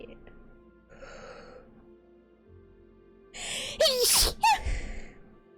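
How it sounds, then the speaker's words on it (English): A sharp, loud sneeze bursts out after a quick inhaling gasp, close by, followed by a softer exhale. "I got a cold from sneezing. I hate those sneezes."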